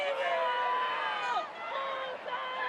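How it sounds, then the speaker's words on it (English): Rugby crowd at an England vs France women's Six Nations match in 2025 urging England on, a steady dense roar of many voices with rising whoops, sustained and loud throughout. "the crowd trying to push England on"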